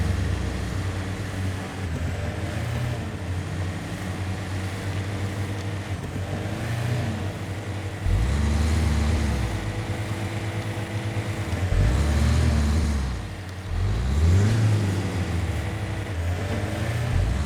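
Truck engine in the off-road driving game Expeditions: A MudRunner Game, a steady low droning motor with several rising and falling revs as it labours, loud and continuous with no talk over it.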